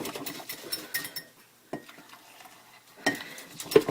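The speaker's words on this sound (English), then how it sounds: "So I use this whisk to dissolve the powders." A whisk stirs powders into coffee in a cup, giving quick irregular scraping and clinking bursts with brief pauses, close and fairly quiet, with no talking.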